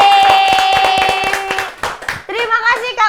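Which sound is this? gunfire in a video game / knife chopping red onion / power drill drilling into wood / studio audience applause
studio audience applause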